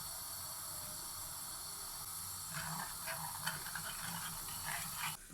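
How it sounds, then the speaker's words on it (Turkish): Ground red pepper sizzling in a half tea glass of vegetable oil in a frying pan, a steady hiss that swells into crackling spatter partway through, close up with no talking. "Toz biberi çok kızartmayalım."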